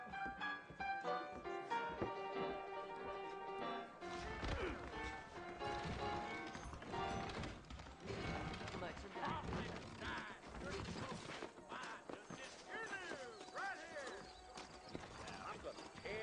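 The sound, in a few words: horses trotting, hooves and neighing, video game Red Dead Redemption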